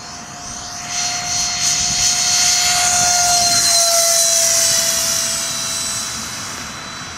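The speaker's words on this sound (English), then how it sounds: "Okay, flaps on, and I'm coming in for a landing." A radio-controlled Hobby-Lobby MiG-15 model jet flies past, its high steady whine swelling as it nears, then fading away, loud and alone against outdoor background.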